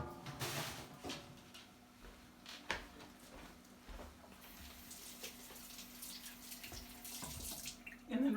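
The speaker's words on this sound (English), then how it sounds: "And then rinse and dry the corn." Tap water runs steadily at a sink to rinse ears of corn, a soft continuous wash with a few light knocks and handling clatters, heard alone at low level.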